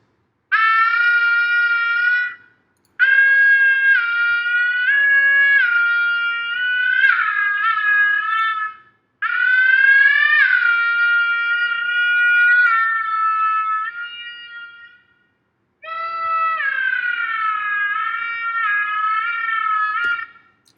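A heavily time-stretched opera voice, drenched in reverb and processed in GarageBand, sings long wavering high phrases in four separated sustained sections with short silent gaps between them.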